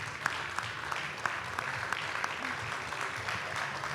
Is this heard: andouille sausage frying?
no